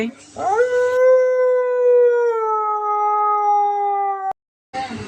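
A talking myna imitates a jackal's howl, giving one long sustained howl that holds steady for about four seconds and then cuts off. Short bursts of noise sit just before and after it.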